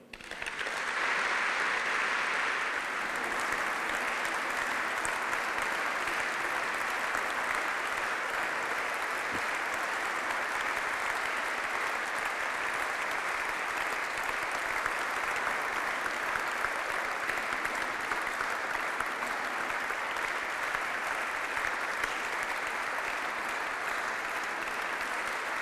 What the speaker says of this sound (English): Both ladies deserve a warm applause.